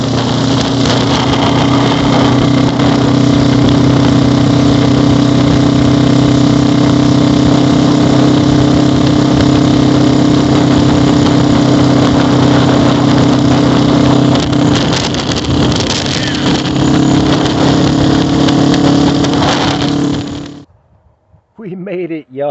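Loud, rough, constant rumble of a Harley Ironhead motorcycle engine running on the road for about twenty seconds, then cutting off abruptly into brief quieter sounds.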